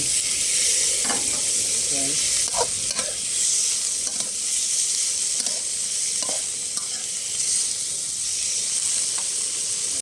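Mushrooms frying in a pan in a shrimp and fingerroot stir-fry, with a constant loud sizzle, punctuated by intermittent knocks and scrapes of stirring.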